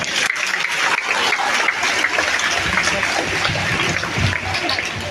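An audience applauds at a school award ceremony honouring students, with dense, steady clapping that carries unbroken through the whole stretch.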